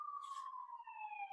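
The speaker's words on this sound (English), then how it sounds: "See a police siren outside." A police siren outside wails faintly in the distance, a single steady tone sliding slowly downward with no other sounds around it.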